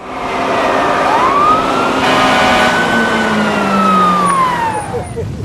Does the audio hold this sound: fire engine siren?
yes